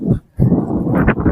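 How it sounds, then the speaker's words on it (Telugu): A dog in a forest tribal village barks and whines at close range, two loud short bursts with a brief pause between them. "ఎందుకురా కుక్క అరుస్తున్నావు?"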